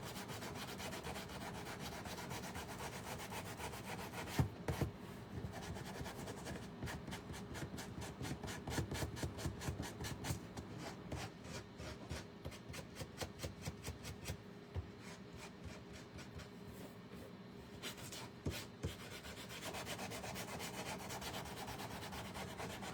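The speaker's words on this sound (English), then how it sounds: "let's sand her little" Small wooden glasses for a stitched Mrs Claus craft figure being sanded by hand, steady rasping strokes that quicken into rapid back-and-forth scrubbing, close and fairly quiet.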